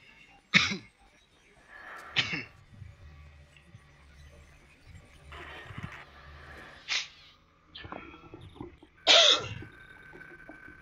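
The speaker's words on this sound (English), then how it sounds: "Every time I start recording, I start coughing." Several sharp, throaty coughs burst out at irregular intervals from a person close to the microphone, separated by quiet pauses and faint low background noise.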